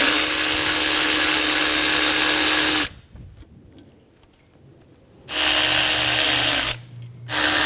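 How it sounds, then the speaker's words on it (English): A power driver spins a 10mm socket to back out the thermostat housing bolts on a 2013-2017 Honda Accord, with a loud, steady whir for about three seconds, a pause, then two shorter bursts close up, no talking. "Using a 10mm socket, remove the thermostat housing bolts."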